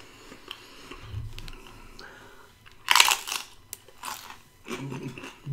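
Paqui tortilla chips are bitten and chewed close to the microphone, with a loud sharp crunch burst in the middle and softer chewing crunches before and after, alongside brief talk.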